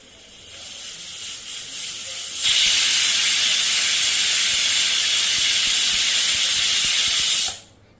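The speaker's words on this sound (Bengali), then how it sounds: "কুকারের ঢাকনাটা বন্ধ করে গ্যাসের ফ্লেম বাড়িয়ে দিয়ে আমরা 4টে সিটি তুলে নেব" A pressure cooker on a gas stove lets out a loud, sustained steam whistle and hiss for about five seconds after a quieter build-up, then cuts off abruptly.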